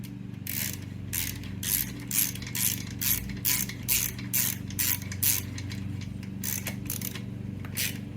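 A socket wrench ratchets a bolt on the exhaust of a 1979 Vespa P200E scooter, a close, loud series of rapid clicking strokes repeating in a steady rhythm with no talk.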